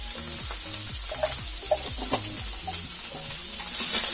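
Green pumpkin fries lightly with turmeric in a pan, a soft steady sizzle with repeated stirring strokes scraping close by. No voices.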